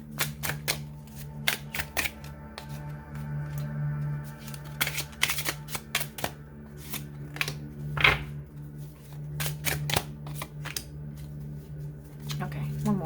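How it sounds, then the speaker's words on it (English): Tarot cards are shuffled on a lap with a half bridge shuffle, giving crisp, rapid riffling flutters and soft taps in repeated bursts while a voice speaks quietly in the background. "I did the half of a bridge shuffle on my lap"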